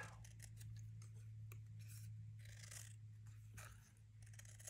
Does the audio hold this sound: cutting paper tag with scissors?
yes